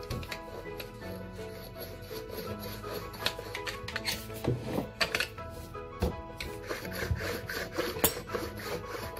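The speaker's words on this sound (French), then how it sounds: "J'étale ma pâte." Dough for Malagasy-style salted croquettes being rolled thin on a board, a steady repeated rubbing and scraping with soft knocks and clicks, close and fairly quiet, no voices.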